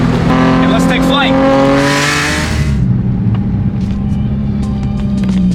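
Turbocharged Nissan 350Z Nismo with a failing clutch downshifting to third and accelerating, the engine rising loud and close with a brief squeal, then settling to a rough rumble; a voice speaks over the start.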